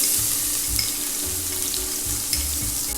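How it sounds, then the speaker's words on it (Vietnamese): Minced shallots frying in hot chicken fat mixed with cooking oil, a steady close sizzle with soft crackles and a few low stirring scrapes, no voices. "Dầu là nóng rồi ha. Bây giờ mình cho hành băm vô."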